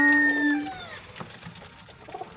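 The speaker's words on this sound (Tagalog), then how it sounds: "Andito na naman tayo sa mga kalapati." Pigeons in a coop with a young squab, soft cooing and bird calls at close range, a clear tonal call at the start fading into quieter scattered sounds.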